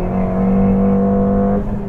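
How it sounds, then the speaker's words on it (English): A Stage 2 Ford Fiesta ST spinning its wheels in second gear, a loud sustained engine drone with a steady tone from close inside the car, dropping off slightly at the end. "That is just a wheel spin in second."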